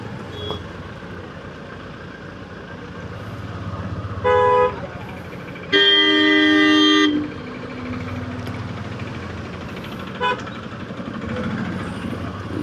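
Busy road traffic outside Nageshwar temple near Dwarka, with a constant engine rumble broken by a short horn toot, a longer loud blast of honking, and a brief third toot.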